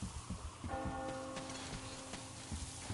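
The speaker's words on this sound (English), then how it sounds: "Do you hear that bell?" A bell rings in a PS4 video game, its sustained tones entering partway through and holding steady over a constant bed of ambient game noise, somewhat distant and moderately loud.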